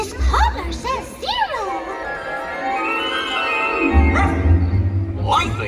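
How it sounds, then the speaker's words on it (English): A cartoon ghost dog barks and yips amid the music and effects of a Disney Magic Kingdom Halloween fireworks show, short excited barks ringing out over a crowd and sustained show soundtrack while voices talk. "Hey, look! A dog! It's a ghost dog!"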